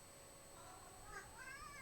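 A pet cat named Zeno gives a short, faint meow near the end over quiet background hum, with no talking.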